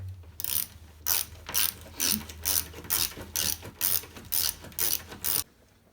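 A ratchet tightens a bolt for a flat screen TV wall bracket, giving about ten loud, evenly spaced clicking bursts up close before it stops.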